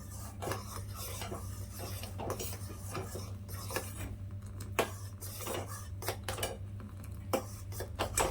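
A spoon stirs spice mix into traditional Maharashtrian thandai, giving a series of faint clinks and scrapes against the vessel, irregular and quiet over a low steady hum.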